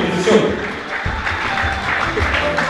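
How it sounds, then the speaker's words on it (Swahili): A crowd applauds a student at a seminary graduation ceremony, sustained clapping filling the hall with some voices mixed in. "Tutambue kwa makofi tafadhali kumbi"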